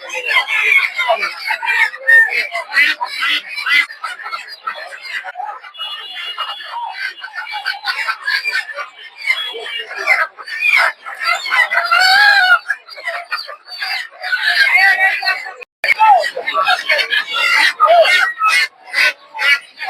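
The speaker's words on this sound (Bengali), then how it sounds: "প্রচুর পরিমাণে দেশি মুরগি দেখতে পাচ্ছেন" Native village chickens and roosters cluck and crow in crowded pens at a rural weekly market, with dense overlapping calls from many birds close by throughout and market chatter mixed in.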